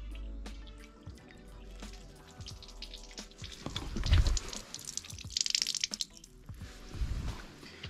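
Water running and dripping as it drains away through a drain hole in a car's boot floor, a close trickle with scattered drips and a slightly louder gush in the middle.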